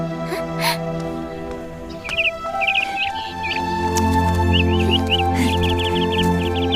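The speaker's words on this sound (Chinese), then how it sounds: "你看，哪来的黄雀啊？" Caged yellow siskins chirping indoors, bursts of quick high tweets repeating in short clusters over a steady background hum, fairly clear and close.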